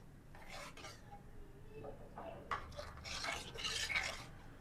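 Semolina, water and a pinch of salt are stirred in a pan, giving scraping, rubbing strokes of a utensil against the pan in irregular bursts, close and fairly quiet with no voices.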